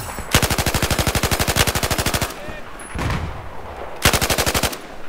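M249 light machine gun in the video game Battlefield 4 firing two long sustained automatic bursts, a rapid steady rattle of close, loud shots separated by a short pause with scattered game noise.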